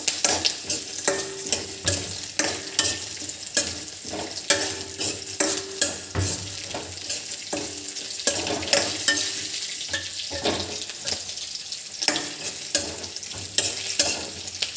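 Cumin seeds frying and being stirred in a pan for coriander chutney, a steady close sizzle with repeated scraping stirs throughout, no talking.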